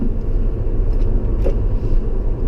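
A Tesla electric car brakes hard on a race track, heard from inside the cabin as a loud, steady low rumble of road and tire noise with no engine roar and no voices.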